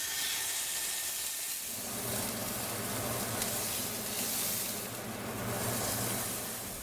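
A piece of steak cooking in a pan gives a steady, soft hiss and sizzle, with a low hum underneath, fairly quiet and unbroken throughout.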